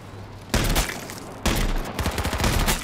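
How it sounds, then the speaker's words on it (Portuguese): An MP7 submachine gun fires bursts in H1Z1. Three loud, close volleys of rapid shots cut in one after another, each a dense crackle with brief gaps between. "quando acerta essa rajada de MP7"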